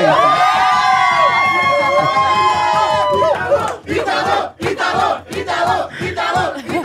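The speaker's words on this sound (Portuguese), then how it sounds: "Grita de novo, gente." A podcast studio audience shouts and cheers together, a loud sustained collective yell for about three seconds, then breaks into rising whoops and excited cries.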